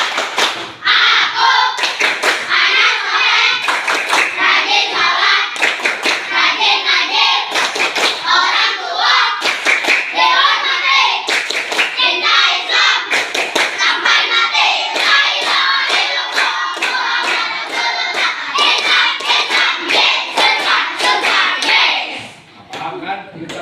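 Children chanting the 'tepuk anak soleh' clapping song in a classroom religious lesson, sharp rhythmic hand claps ringing out in a steady pattern over lively group voices, loud and close throughout.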